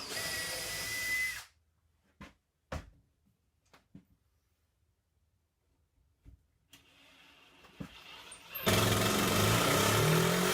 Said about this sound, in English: pre-drill a hole through the cabinet and through the drywall, and then drive in a good hefty screw